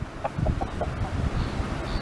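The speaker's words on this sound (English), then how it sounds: "Come on, chicken birds." Hens on a chicken farm give a short run of soft, throaty clucks close by, several quick calls in a loose rhythm over light wind rumble, with no one talking.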